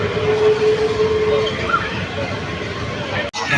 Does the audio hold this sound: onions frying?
no